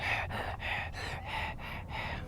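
Rhythmic, breathy panting from a free-flying bird repeats in quick even pulses, about five or six cycles, close and soft with no talking, at Huai Lan Reservoir, Chiang Mai.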